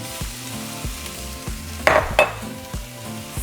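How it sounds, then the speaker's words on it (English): Minced garlic and corn frying in a pan: a continuous close sizzle with two sharp clinks of a utensil against the pan near the middle. "we're going to fry them for a couple minutes"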